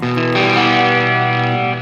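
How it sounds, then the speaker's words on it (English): Electric guitar run through a BOSS GX700 preamp into a Bugera amp, a sustained, heavily distorted chord ringing loud and close with a buzzy, saturated edge, held for under two seconds without any talking. "Cannot get rid of that distortion here."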